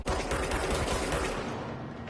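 Rapid automatic gunfire from enemies in the video game Control rattles continuously at close range, a dense loud stream of shots that eases slightly toward the end.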